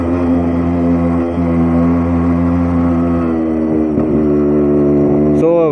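A Royal Enfield Bullet 500 motorcycle thumps along a curvy hill road near Kotagiri, its engine a steady close drone with the pitch dipping and rising through bends, and someone talking over the ride.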